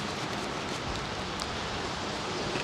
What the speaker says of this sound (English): rain is very slightly easing up